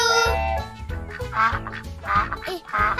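A cartoon duck quacks several times in a rhythmic series over bouncy children's music, loud and close, in a Didi & Friends farm scene.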